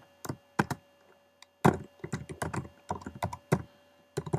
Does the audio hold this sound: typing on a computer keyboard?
yes